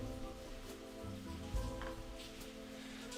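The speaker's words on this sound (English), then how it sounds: "the rain is making it kind of cool today" Rain falling outside on a cool day, a soft, steady wash of patter with faint drops and a low rumble, heard alone at a quiet level.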